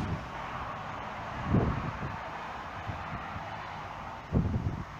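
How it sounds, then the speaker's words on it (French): Strong wind blows outdoors under dark, heavy clouds, a steady broadband roar with two louder gusts buffeting the microphone, no voices. "Et beaucoup de vent."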